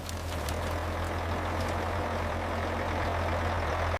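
Abandoned Unimog backhoe, left 30 years in the jungle, its cold rusty engine cranking and coughing on starting fluid, a loud steady low rumble throughout that stops abruptly at the end.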